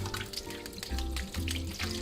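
Tap water runs steadily into a kitchen sink while a boiled egg is peeled beneath it, a continuous close hiss and splatter with small knocks and crackles mixed in.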